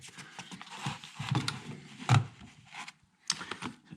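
Torque wrench and tools worked on an Audi Q5 3.2 FSI engine's upper timing chain tensioner, irregular close metallic clicks, scrapes and ratcheting with brief quiet gaps and no talking.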